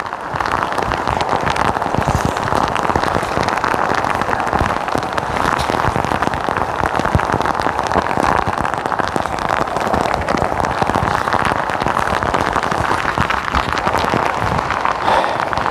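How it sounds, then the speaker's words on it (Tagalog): Heavy rain falling steadily in a mountain forest, a dense, loud, unbroken hiss of drops on leaves and ground that holds constant throughout with no voices. "Sa gubat, pag akyat mo dito, ang lakas ng ulan mga kabayan."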